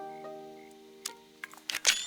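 Camera shutter clicks from a miniature building video game sound as a few short, crisp snaps in the second half, over a soft sustained musical tone.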